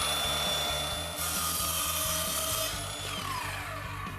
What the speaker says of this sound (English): Just take the saw and make a cut right along the fence